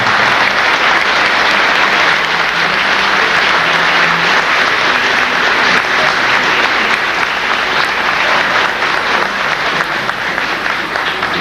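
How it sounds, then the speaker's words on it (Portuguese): Guests at a museum reopening give sustained loud applause to former employees of the Crédito Real bank, a thick, steady roar of many hands clapping that barely fades across the whole stretch, with a faint murmur underneath. "nossos aplausos aos ex-funcionários do Crédito Real"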